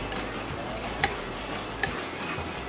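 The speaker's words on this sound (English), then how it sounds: "Kind of scraping up the bottom of the pot a little." A spoon stirs paprika in a pot and scrapes the bottom, making a soft gritty scraping over a low sizzle, with two small metallic clicks, close and quiet.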